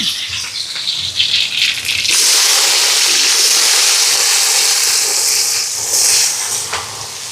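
Mustard seeds, garlic, onion, curry leaves and green and dried chillies sauté in oil in a large pan for a charitable meal, giving a loud, continuous hissing sizzle that builds and holds steady, without talk.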